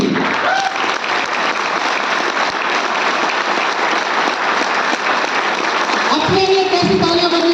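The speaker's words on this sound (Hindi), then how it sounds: "तो मैं चाहता हूं अब तक की सबसे जोरदार तालियां अपने लिए आपकी होनी चाहिए।" A large audience claps in a loud, sustained, dense burst of applause that lasts the whole time, with a voice speaking over it near the end.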